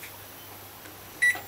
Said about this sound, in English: set your timer